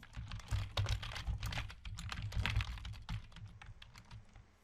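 Rapid, steady typing on a computer keyboard while entering a Python command, a close run of fast key clicks with no talking.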